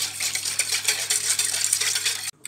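Custard mixture with vanilla and starch being stirred in a bowl, a continuous close scraping and swishing of a utensil with faint clinks that cuts off abruptly at the end.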